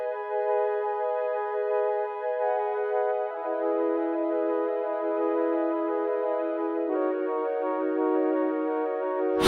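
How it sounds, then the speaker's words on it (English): A smooth synth string pad holds sustained chords, shifting to new chords about every three seconds, clean and steady with nothing else playing. "I copied the same pattern from the Rhodes over to this string pad"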